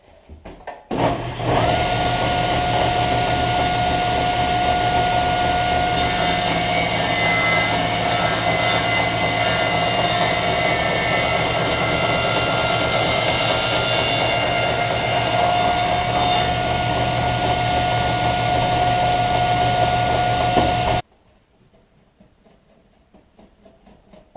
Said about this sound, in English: So that's what the table saw is set up for.